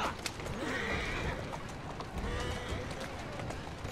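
A horse gallops and neighs in the Victorian-era video game Assassin's Creed Syndicate, with steady hoofbeats running under a whinny, alongside game noise and someone talking over it.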